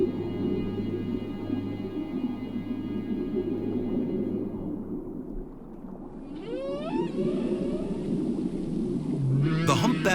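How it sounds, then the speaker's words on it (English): A male humpback whale sings underwater off Mexico, its long sweeping moans and rising whoops carrying over a deep, constant ocean rumble, with a sharper upward cry near the end. "The humpback whale's song is the most complex in the animal kingdom"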